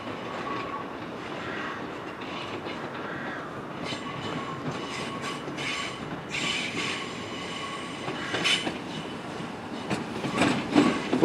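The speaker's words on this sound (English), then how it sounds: "Next train to arrive in is the 1536 terminating service from Bognor Regis." Class 313 electric train pulling into Barnham station on the 1536 terminating service from Bognor Regis, a steady rolling rumble of wheels on rail with brief squeals and rising clatter as it draws near, no voices.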